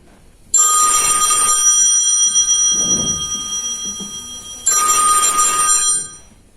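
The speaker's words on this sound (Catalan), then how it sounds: "començarem amb una trucada telefònica" A telephone bell rings loudly for an incoming call during a children's theatre show, sounding in two long bursts separated by a pause.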